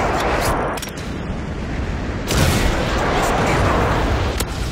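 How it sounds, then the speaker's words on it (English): Friendly airstrike explosions in Call of Duty MW3, loud overlapping booms and gunfire forming a dense, sustained roar, with a sharp new blast near the middle. "friendly airstrike on the way"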